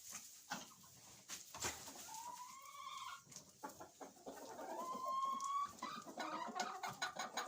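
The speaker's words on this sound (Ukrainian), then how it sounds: "Он півник погукав своїх курочок щось." Hens cluck and chatter while a rooster calls to them across a straw-covered farmyard, with repeated close clucks and a couple of drawn-out rooster calls.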